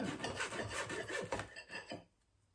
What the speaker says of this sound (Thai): เสร็จแล้วก็หั่นครึ่ง